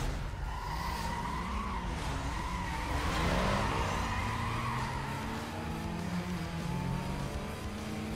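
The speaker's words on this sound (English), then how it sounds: "God, this car's so slow." A car in a video game drives steadily, with a constant engine drone and tire squeal or skidding throughout. The sound is loud and continuous with no talk.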